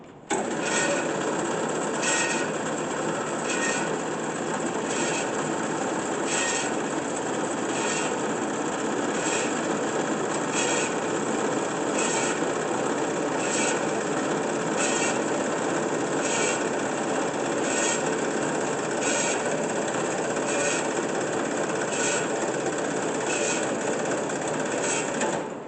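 A Kalamazoo 9AW V 9-by-16-inch horizontal band saw with variable speed drive runs and cuts steadily, a loud continuous machine whine with a faint regular ticking pulse throughout and no speech.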